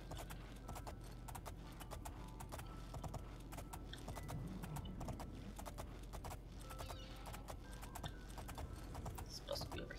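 Horse hooves clip-clop at a steady rhythm in the video game TES IV: Oblivion, heard near and continuous under background game sounds while a person talks over it.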